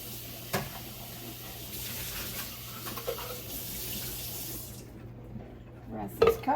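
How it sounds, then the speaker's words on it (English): A cup is rinsed under a running kitchen tap, a steady splashing stream for about five seconds that cuts off, followed by a couple of sharp clinks. "Rinse this cup out, and that's ready for the next one."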